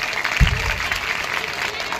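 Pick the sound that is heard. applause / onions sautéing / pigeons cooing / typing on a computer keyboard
applause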